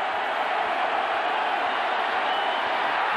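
A college football stadium crowd, Florida at Syracuse in 1991, roars on its feet in a steady, dense wall of cheering with no breaks. A broadcast commentator's voice sits faintly under the noise.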